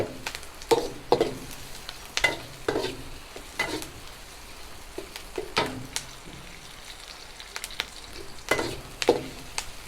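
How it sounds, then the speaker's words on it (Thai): Sliced onions sizzle steadily in a pan while a utensil scrapes and stirs in repeated strokes, close and clear with no talking. "เราผัดเขาจน ตัวหอมเนี่ย ขึ้นใสๆนะคะ"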